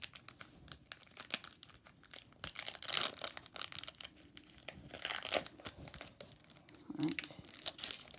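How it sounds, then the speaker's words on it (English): Yu-Gi-Oh card pack foil wrappers crinkle and tear up close in several short bursts, with a brief spoken word between the rustles. "let's get to the openings of the card packs themselves"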